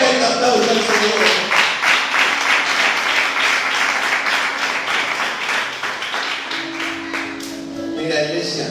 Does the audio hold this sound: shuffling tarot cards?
no